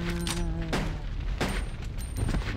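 Gunshots in the survival horror game Resident Evil: Code Veronica X, a few sharp, loud reports spaced apart over a tonal game soundscape, with no one speaking.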